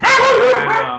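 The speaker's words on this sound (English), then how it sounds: "that's our dog needing a little attention." A pet dog at home whines and barks for attention, loud and close, in one continuous yelping burst lasting about a second, with a brief spoken word over it.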